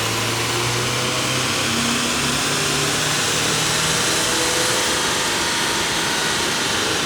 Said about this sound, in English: We're going to do a pull in 4th gear to give you guys an idea of what our baseline numbers are.